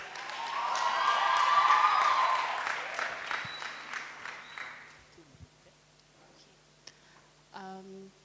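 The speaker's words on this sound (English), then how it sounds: "Let's clap for her as she comes." Audience clapping at a school prize-giving and thanksgiving day, loud and dense at first, then thinning into scattered claps and fading out, followed by a few faint bumps and a short electronic beep.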